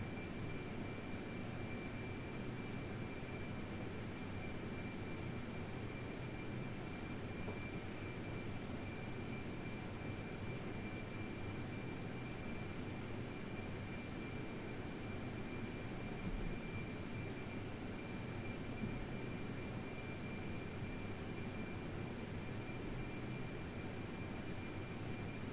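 Simulated jet airliner engines in the FlightGear flight simulator as the aircraft builds speed: a quiet, steady, even engine drone with a faint whine and no talk, holding the same level throughout.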